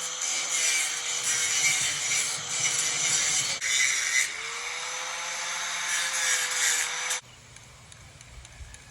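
A power tool grinds steadily against the metal of an old hay elevator, a loud continuous abrasive whine with brief changes in pitch before it cuts off near the end.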